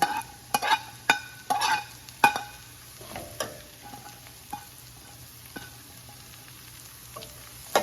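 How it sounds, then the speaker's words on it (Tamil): Beetroot and onions sautéing in a pan, with irregular spatula scrapes and clanks over a low, continuous sizzle, loudest in the first few seconds and sparser afterward. "பீட்ரூட்டை இந்த வெங்காயத்தோட சேர்த்து நல்லா வதக்கி விட்டுக்கலாம்"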